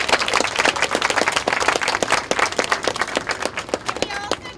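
A conference audience at a research slam event claps and applauds in a dense, sustained burst of hand claps that fills the room, with a few voices in the crowd.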